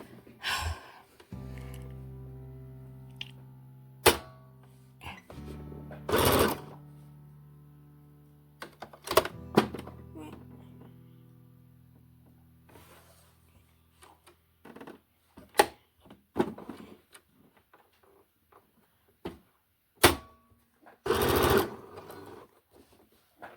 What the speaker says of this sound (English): Now let's do it on the sewing machine.